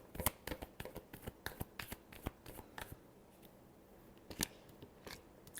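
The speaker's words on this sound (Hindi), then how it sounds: "Last shuffle." Tarot cards being shuffled up close in a quiet room: a rapid series of crisp riffling snaps and flutters, several bursts over a few seconds, with a last louder flurry near the end and no voice over it.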